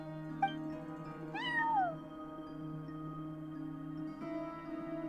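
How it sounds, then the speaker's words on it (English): A cat meows in the video game Genshin Impact, one rising and falling meow heard clearly over soft ambient game music, with a brief click before it. "No one except for a cat watching over the front desk."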